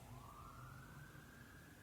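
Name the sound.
sirens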